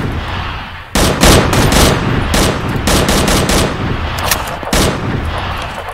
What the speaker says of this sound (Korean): 전방에서 총소리가 들리긴 하네